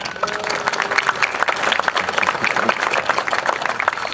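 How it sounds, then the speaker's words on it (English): A concert audience at a municipal band performance in Ste. Genevieve, Missouri claps steadily, a full, even round of applause with individual claps popping out near the front. "Can we please give them a round of applause?"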